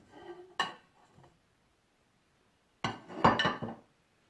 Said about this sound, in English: I'm going to start by putting our cheese and butter in our mixing bowl here